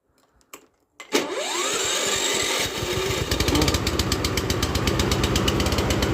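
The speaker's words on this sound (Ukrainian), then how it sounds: "Зараз ми спробуємо як вона заводиться" A petrol lawn mower engine is pulled and started cold, catching after a brief rattle and settling into a loud, steady, fast-firing idle close by.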